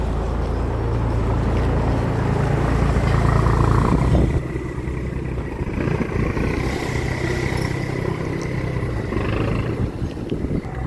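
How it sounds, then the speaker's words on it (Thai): A boat's engine drones steadily as it pulls away from a pier, a loud close rumble with water churning, continuous throughout and with no voices. "เรือค่อยๆ ออก ไปแล้วผม"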